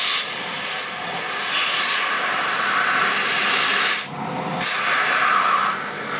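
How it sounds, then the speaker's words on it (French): A Suzuki GSX-F 600/750 motorcycle engine with its carburetor refitted roars loudly and steadily with a hissing edge. It drops briefly when the throttle is closed, then swells again as it is reopened. "J'ouvre les gaz. Ferme les gaz."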